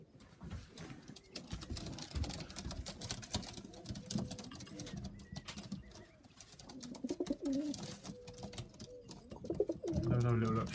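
Young pigeons coo softly in a loft, low throaty calls repeating at close range alongside light shuffling, with someone talking over them.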